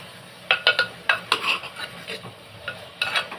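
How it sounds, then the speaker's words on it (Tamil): A pan of mango and tomato kuzhambu cooks in oil as a spoon stirs it, giving a series of close metallic scrapes and clinks over a faint sizzle. "நல்லா இது எண்ணெயிலே வேகட்டும்"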